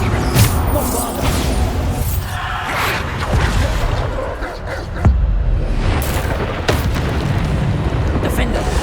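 Bombarda blasting spell in Hogwarts Legacy, a loud booming explosion amid continuous battle noise, with crashes and impacts throughout and a sharp burst near the middle.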